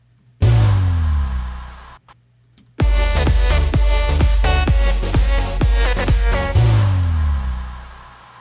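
A synthesized bass drop in an electronic dance mix hits with a deep sub-bass swell that sinks in pitch, then a dense driving beat of repeated punchy hits enters and ends with another falling sub-bass sweep.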